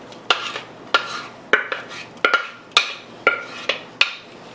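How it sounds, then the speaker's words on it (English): Beans and corn are stirred through a pan of taco rice casserole with a spoon, giving a steady series of close, rhythmic scraping clinks against the pan, one roughly every half second, with no talking. "And then stir all this together to get all the flavor in."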